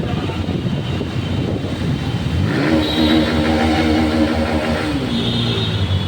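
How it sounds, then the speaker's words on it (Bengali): A car engine labors and revs while the car struggles through a flooded street in Kolkata, a loud rising drone with a swell of strain partway through and no talking. "গাড়ি আর এগাচ্ছে না জলের মধ্যে।"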